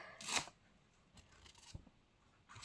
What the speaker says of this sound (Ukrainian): Відкриваємо пакетик.